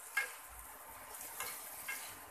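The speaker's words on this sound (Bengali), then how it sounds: "এইভাবে নেড়ে চেড়ে নিব" Meat and spices are stirred in a frying pan, giving quiet scraping strokes and a faint sizzle at a few spaced moments, with no talk.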